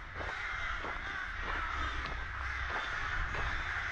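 Crows cawing outdoors in the village of Altynemel in Kazakhstan's Almaty Region, several harsh caws repeating at a steady pace over a constant low wind-like background hum.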